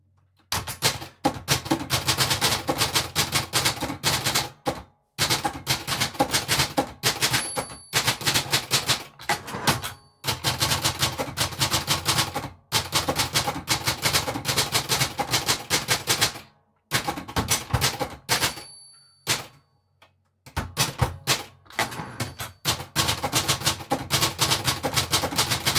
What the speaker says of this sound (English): So for instance, I'm going to type a little bit here.